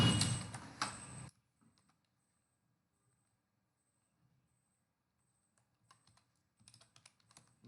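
Keys clatter loudly on a computer keyboard in a brief opening burst while a Python print statement is entered, then the room falls near silent before a few faint, scattered key taps return.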